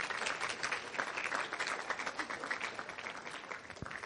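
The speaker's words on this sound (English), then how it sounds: "I think we should give a little round of applause for the parents in the room" Applause rises from a graduation audience honoring the parents, a fairly quiet patter of many hands clapping steadily with no voices on top.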